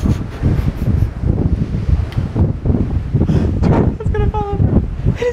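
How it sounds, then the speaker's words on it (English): Strong wind blows across the open deck of the Royal Caribbean cruise ship Wonder of the Seas, buffeting the microphone in loud, uneven gusts throughout, with a voice faintly present. "Oh my gosh, it's so windy."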